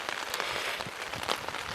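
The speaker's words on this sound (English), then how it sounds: "You see it's raining now." Steady rain patters across a soggy backcountry campsite in spring, a dense hiss of drops striking wet ground and gear with scattered louder splats, close and continuous with no voices.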